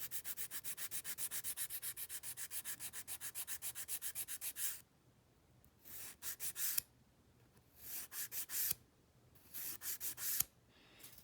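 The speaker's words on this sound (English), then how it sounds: "again, just filing the sides." A nail file rasps back and forth along the sides of dip powder manicured nails, with a fast steady run of strokes for about five seconds, then short bursts of filing separated by pauses, close up.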